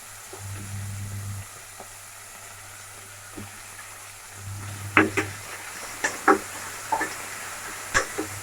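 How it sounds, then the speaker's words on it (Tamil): Onions sautéing with rock salt in a pan give a low steady sizzle that fades and returns, with sharp clinks and scrapes of stirring standing out near the end; no talking. "ஆனியன் பாருங்கள், ஆனியன் நல்லா வதங்கிச்சு."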